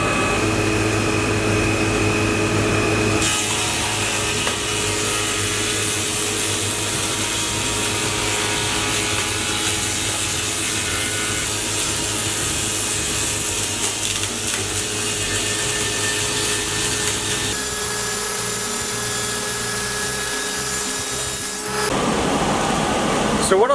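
Spindle moulder cutting a groove into a wooden cladding board: a loud, steady machine whine with a grinding cut runs nearly the whole time, shifting pitch partway through and dropping away just before the end.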